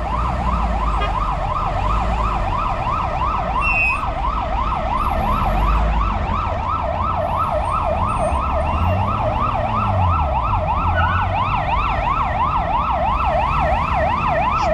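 An ambulance siren wails in a fast, steady warble, loud and close, as the ambulance pushes slowly through a traffic jam at city traffic lights in the Romanian capital, with low engine rumble beneath and no talking.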